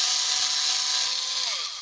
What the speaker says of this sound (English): one of the things I've noticed is you can't just leave the drill running and pull out